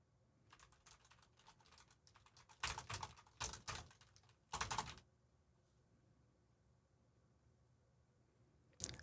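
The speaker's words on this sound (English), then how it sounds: "And now I'm going to go ahead and type on my keyboard." Typing on a computer keyboard at a desk, picked up through a Shure SM7B dynamic microphone: faint scattered clicks that swell into a few louder, dense bursts of keystrokes, then a single tap near the end.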